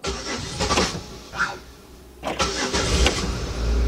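The starter of a 2005 Chevy Impala 3.8 whirs, and the engine catches with a burst of revving, quiets for a moment, then rises again to a loud, steady run close by. The car has been stalling out when warm.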